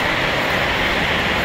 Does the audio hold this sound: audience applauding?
no